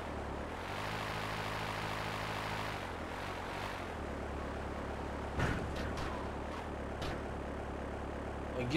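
Dodo propeller plane in Grand Theft Auto III, its engine droning loud and steady with a rising whir, then a continuous roar with a few bumps and clunks.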